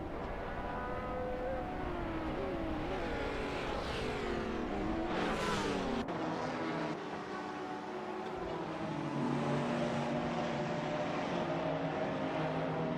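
Race cars at Spa in a racing video game, with engines droning and revving continuously and overlapping as cars pass, a steady loud mechanical roar with pitch sweeps.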